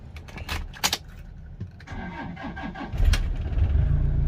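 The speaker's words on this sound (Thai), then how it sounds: "ทดสอบสตาร์ทนะครับ" Keys jingle and click sharply inside a Toyota Vigo pickup fitted with a new remote key, then the engine cranks and catches about three seconds in and settles into a steady close idle.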